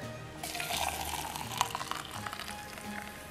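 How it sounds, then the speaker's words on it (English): Hot water poured into a Teavana tea steeper, starting after a brief quiet moment and then running as a steady, close splashing fill with a couple of small clinks, no talking. "I'm going to pour the hot water in."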